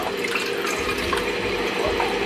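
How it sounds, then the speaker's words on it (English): Water pours steadily into a glass, a continuous close trickling splash lasting a couple of seconds with no voices. "Pour our water."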